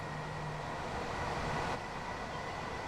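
A high-speed express train on the East Coast Main Line between Peterborough and Doncaster in Train Sim World gives a steady rumbling run with a faint tonal hum, continuous and moderately loud, with no speech.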